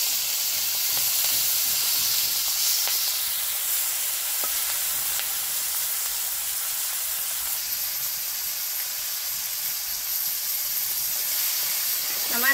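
Prawns frying in a hot wok of oil give off a steady, even sizzle and hiss that holds close and fairly loud from start to finish, with no voices over it.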